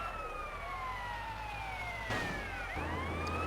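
A fire truck siren wails in GTA San Andreas as it chases the player, sweeping tones with a sharp shift partway through over low engine rumble.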